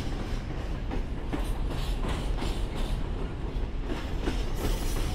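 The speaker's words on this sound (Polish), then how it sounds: "Troszkę przyspieszył ten transport węglarek." A freight train of coal wagons rolls past near a marshalling yard in Kielce Herbskie, a loud, close rumble with regular clickety-clack wheel beats on the rail joints throughout.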